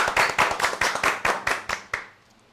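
A crowd at a Sundanese stand-up comedy show in Indramayu claps in unison. About ten quick, rhythmic claps sound close and lively, then stop and fade out.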